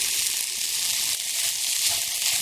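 Vegetable momo filling with chives and chopped green chilli sizzles in a hot pan, giving a continuous close, bright hiss with a fine crackle and no talking.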